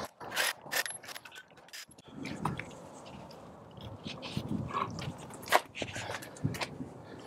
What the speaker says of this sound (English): what we're gonna do is actually just jack that up a little bit right now in order to take the wheel off